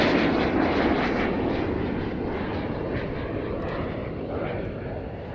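Fiat G91R jet aircraft flying past in formation at the RIAT 2025 airshow, a loud, steady engine roar that holds across the whole clip and fades slightly toward the end.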